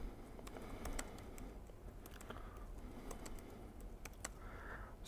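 One-handed typing on a computer keyboard during a live software demo, a steady patter of light, irregular key clicks close by with no voices.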